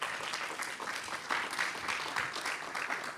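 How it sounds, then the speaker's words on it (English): An audience at a business talk claps in a dense, steady round of applause, fairly faint and evenly sustained for a few seconds. "So round of applause for Seda, please."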